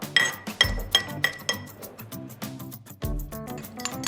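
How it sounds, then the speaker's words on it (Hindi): Garlic and mustard seeds pounded in a mortar and pestle, a steady series of sharp clinking strikes with ringing metallic overtones, close and clear, about a dozen hits at an uneven rhythm. "इसी में थोड़ा सा मस्टर्ड सीड्स डाल के इसे भी कूट लेंगे।"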